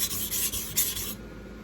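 A kitchen knife scrapes across a water stone in a few short, gritty rasping strokes, close up and fairly quiet, with the last stroke trailing off into near silence.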